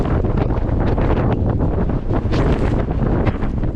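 Strong, gusty wind roars during a sandstorm on the Great Sand Dunes, with 50+ mph gusts buffeting the microphone in a loud, continuous rumbling blast.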